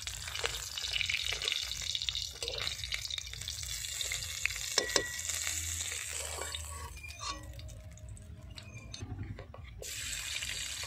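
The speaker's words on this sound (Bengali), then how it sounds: "বাকি মাছগুলো ভেজে নেব।" Parshe fish fry in a pan with oil, giving a steady sizzle and crackle along with stirring and clattering, plus a short burst of running water partway through.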